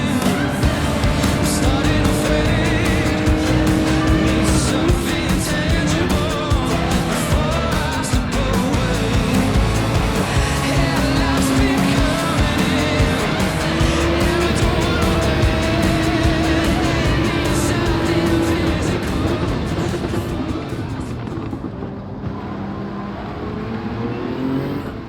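Race cars in the Gran Turismo 7 video game roar continuously, engines revving and shifting with whooshing passes, loud and close throughout before thinning slightly near the end.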